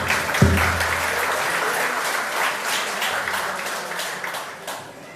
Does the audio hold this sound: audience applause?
yes